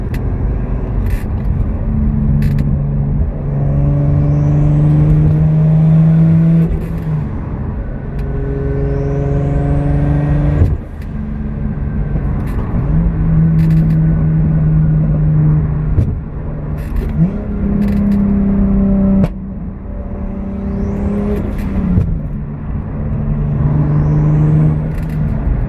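A turbocharged Lexus IS300 with an aftermarket exhaust rumbles through repeated revs and downshifts, engine tones rising and falling in pulls, with crackles and pops on the overrun, loud and steady from inside the car.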